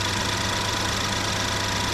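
A Lincoln MKZ engine with a low fuel pressure fault idles in a steady, continuous drone, with an even rumble and mechanical hum and no talking.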